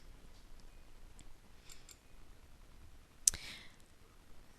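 A single sharp computer mouse click rings out against a near-silent background, preceded by a few faint ticks.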